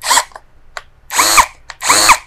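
Cordless hammer drill in hammer mode boring into a concrete wall, roaring in three loud bursts with short pauses and brief blips between, close and harsh, with no voices.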